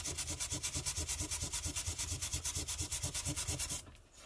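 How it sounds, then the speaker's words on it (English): Rapid back-and-forth sanding with a scrap of sandpaper, each stroke a steady rhythmic rasp, close and even for about four seconds before stopping abruptly, with no speech. "Sandpaper clogs up quite quickly, but it's just scraps that I keep around for exactly this kind of purpose."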